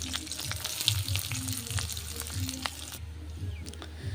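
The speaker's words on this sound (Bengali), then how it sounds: "তো আমার পেঁয়াজ মরিচ কিন্তু বাজা হয়ে গেছে" Onion, green chili and garlic fry in oil in a pan, a close, steady sizzle with scattered crackles and light stirring scrapes, with a brief drop in the hiss near the end.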